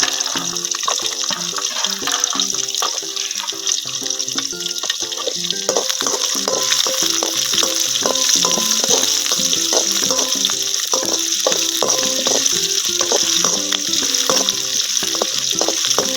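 Garlic and small shallots sauté in a pan for a village-style tamarind kuzhambu, giving a continuous bright sizzle broken by repeated clinks and scrapes of stirring, close and fairly loud.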